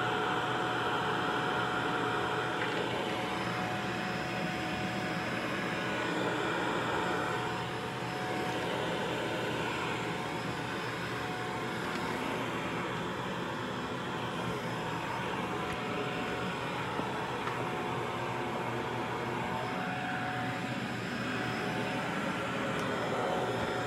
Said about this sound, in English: Can you vacuum up a quarter?